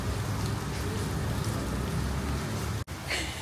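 Summer rain falling steadily, a dense continuous hiss of drops spattering on surfaces, fairly close and even throughout, with a brief dropout near the end.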